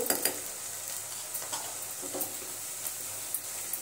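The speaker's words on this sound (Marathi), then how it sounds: "त्यामध्येच आपण 1 चमचा आलं लसूण पेस्ट कांद्यामध्ये आपण परतून घेऊ" Ginger-garlic paste sautéing with ground onions in a pan gives a soft, continuous sizzle dotted with light scrapes and ticks of a spoon, moderately quiet and close, without speech.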